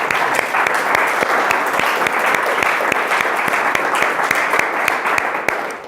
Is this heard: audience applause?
yes